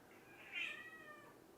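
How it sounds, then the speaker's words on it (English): A house cat gives a single drawn-out meow that rises and fades, fairly quiet and alone against a faint background hiss. "Zuki, what are you meowing at, Zuki?"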